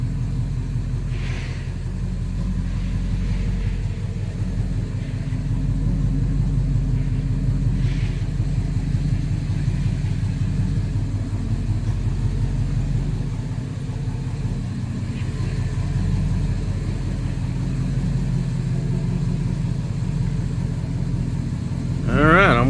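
A vehicle engine runs steadily throughout as a loud low rumble near idle, with people talking over it at times.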